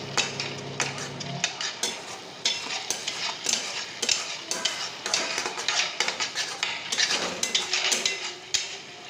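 Masala for a katla fish curry being stirred in hot oil, a steady run of scraping, clattering spoon-on-pan strokes with a soft sizzle beneath, close and fairly loud with no talking.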